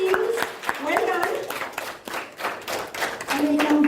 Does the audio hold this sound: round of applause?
yes